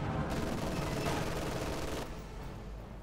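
Sustained gunfire from a tank destroyer in the Company of Heroes 2 real-time strategy game, a dense, continuous burst of shots that tapers slightly near the end, with no talk over it.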